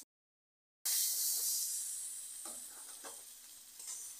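Taro and potatoes stirred with spices in a pan, a bright hiss of sizzling that starts abruptly after a moment of silence, with a few soft scraping strokes of the stirring spoon, fairly quiet, no talk.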